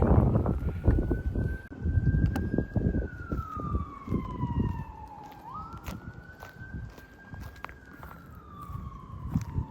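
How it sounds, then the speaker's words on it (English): A wailing siren rises and falls steadily, fairly near, over a background of rumbling traffic and street noise; no one speaks. "All the sirens going off."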